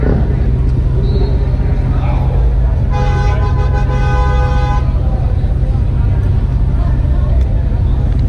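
A truck horn sounds at an outdoor street march, a steady harmonic blast lasting about two seconds midway through amid continuous crowd noise and background chatter.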